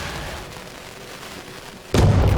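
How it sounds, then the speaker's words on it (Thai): An explosive charge blasts open a boss entrance in V Rising: a low ambient hum gives way to one sudden, loud, booming detonation near the end. "มันต้องพังระเบิดเข้าไปอย่างนี้นะ"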